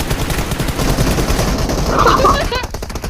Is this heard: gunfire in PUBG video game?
yes